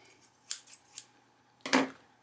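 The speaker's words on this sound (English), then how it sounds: "once the glue is dried, simply cut them out." Scissors snip through paper tags in a quiet craft room, a few crisp cuts in quick succession followed by a longer, louder slicing cut near the end.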